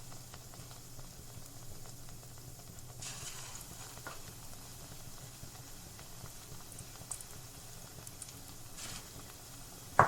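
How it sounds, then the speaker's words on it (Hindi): Batter-coated green chillies frying in hot oil for pakora, a continuous soft bubbling sizzle at low level with a few faint clicks, no voices. "अब हम मिर्चों को फ्राई करना स्टार्ट करते हैं।"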